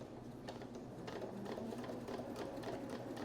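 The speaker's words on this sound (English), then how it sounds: "now I'm going to do another pass on the top edge of the tote bag, flipping the straps up and sewing over them this way." Sewing machine stitching across the top hem of a tote bag and over its straps, a steady rapid mechanical whirring and clatter heard close up at low volume, with no talking.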